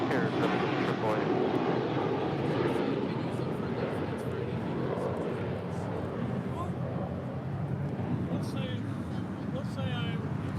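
JetBlue airliner departing on flight 888 to Boston, a continuous loud jet roar spreading across the whole clip with wind-like hiss and faint clicks, steady and fairly near.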